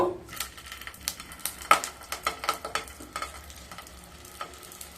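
Katla fish paturi, wrapped parcels in hot mustard oil, crackle and spit in a pan with a series of sharp sizzling pops, close and fairly quiet with no voices.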